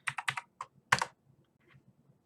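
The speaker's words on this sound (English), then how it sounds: "Let's just type Windows 98," Quick bursts of typing on a computer keyboard running Windows 98, a cluster of close clicks, a pause, then a louder burst and a few faint scattered taps, with no talking.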